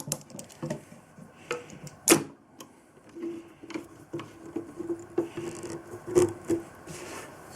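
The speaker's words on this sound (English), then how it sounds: "Now I'm going to clamp it into place so I can screw it down without having it move around on me." Wooden pieces of a saw crate are clamped into place with a scatter of close wooden knocks, scrapes and rubbing taps at an uneven rhythm. A faint squeaky tightening sound comes near the end.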